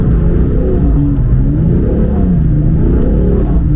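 A BMW M4 with a manual gearbox drifts around a roundabout, its engine loud and close with rising and falling revs and a continuous throaty drone throughout.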